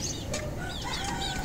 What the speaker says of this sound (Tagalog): ang ingay ng ating manok